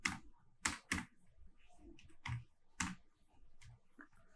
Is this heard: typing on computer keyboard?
yes